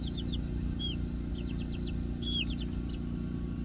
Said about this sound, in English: They're the coolest little chicks.